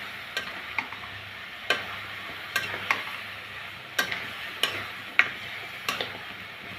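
Malabar spinach seeds being stirred into spice paste frying in oil, with a steady soft sizzle punctuated by sharp, irregular scrapes and taps of a spoon against the pan.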